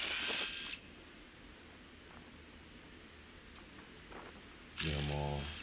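A ratchet spins out intake manifold bolts on a GM 3.8 engine, two bursts of quick clicking, one at the start and one at the end, with a quiet pause between.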